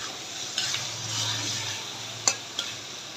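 Spices with ginger paste, stirred for beef head meat cooked in beef fat, make a quiet sizzle, with a few sharp clinks and scrapes of a spoon against the pan.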